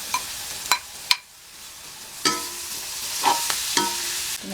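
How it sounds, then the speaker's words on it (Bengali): Spiced fish and roughly two cups of chopped onion fry in a pan, with a steady sizzle broken by several sharp clatters and stirring knocks spread across the few seconds, close by and without any talk. "কিছুক্ষণ ভেজে নিব।"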